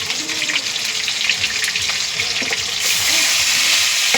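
Bay leaf, onion, ginger, cumin, ginger and garlic powder and other spices fry in a pan with a steady, bright sizzle, close and fairly loud, growing a little fiercer toward the end.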